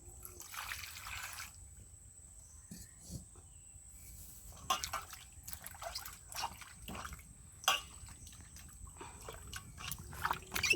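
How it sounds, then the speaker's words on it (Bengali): Hot water poured over pieces of a big magur catfish in a village kitchen, heard as faint splashing and trickling bursts that come and go over about ten seconds, with a steady high hiss and sporadic clinks in the background. "এবার এই গরম জলটা দিয়ে নি"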